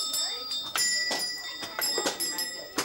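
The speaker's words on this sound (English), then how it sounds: "Who can tell me what the bells were for? Ring the maid or whatever." A servant call bell in an 1860s house rings in a series of quick, bright metallic strikes that come again and again at close range, each one ringing on briefly.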